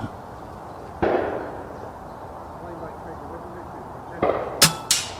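Rifle shots fired on a daytime range while zeroing a Pulsar Thermion XL60 thermal scope: one sharp crack near the start, then two or three more sharp reports toward the end, close and loud with faint background between.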